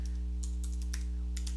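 Keys tapped on a computer keyboard, a handful of faint clicks in short bursts over a steady low electrical hum.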